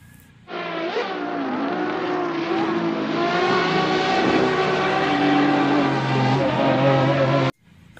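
Red Ferrari toy race car giving off a steady, loud motor whir that starts abruptly, holds for about seven seconds with a slight rise, then cuts off sharply.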